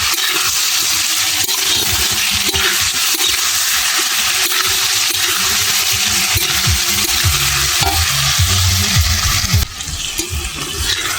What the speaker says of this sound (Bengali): আমি আবার এটাকে ভালো করে কষিয়ে নেব।